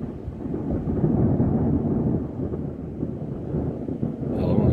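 Low rumbling thunder in a thunderstorm over Vitez, a long continuous roll that swells and holds steady, with some wind buffeting the microphone.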